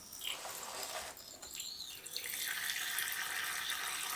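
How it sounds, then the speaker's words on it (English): Water pours into a pet tarantula's water bowl, with splashing and trickling that grows into a steady, close rush in the second half. "Fill the water bowl,"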